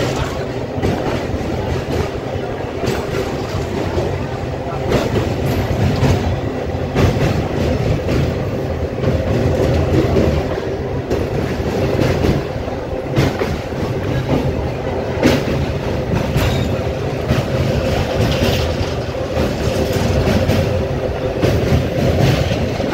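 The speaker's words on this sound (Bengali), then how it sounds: "ট্রেন কিন্তু এখন রূপনারায়ণ নদীর ওপর দিয়ে পার করছে।" An express train crosses a rail bridge over the Rupnarayan river near Kolaghat, its wheels keeping up a steady, loud rumble with rhythmic clickety-clack over the track joints from start to finish.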